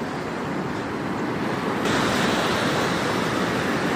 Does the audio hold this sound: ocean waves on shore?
yes